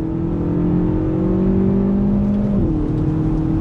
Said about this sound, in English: coming from an inline four turbocharged engine, smooth power delivery